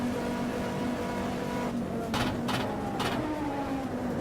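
A touring car in a racing game at the Misano circuit sweeps across the line, its steady engine drone rising into a brief louder pass with a couple of sharp transients, while people talk over it.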